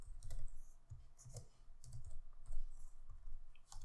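Someone types Python code on a computer keyboard, producing close, uneven clusters of crisp key clicks with brief pauses between bursts and no talking.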